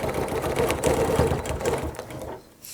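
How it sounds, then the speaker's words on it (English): A sewing machine runs steadily and close up while stitching a quarter-inch seam on quilt binding, its fast mechanical whir continuing for about two seconds before slowing and stopping. "So now I can continue stitching my 1/4 inch seam."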